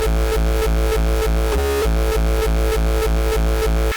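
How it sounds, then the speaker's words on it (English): A distorted frenchcore kick made in FL Studio with FX automation pounds in a fast, steady loop, loud and heavy, with a brief filtered shift in tone partway through the pattern. "This is what a bunch of FRENCHCORE kicks do, usually older ones."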